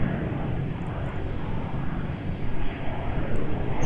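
A passenger plane departing Melbourne Airport for Canberra, its jet engines giving a steady, loud, broad roar that holds throughout with no talk.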